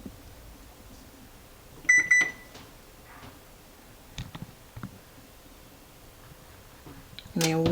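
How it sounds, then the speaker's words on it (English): A kitchen timer is set for an hour while vegetable soup simmers on low: a short burst of electronic beeps, then scattered soft clicks and button taps, and a brighter chirp at the end. "We're going to put our timer on an hour."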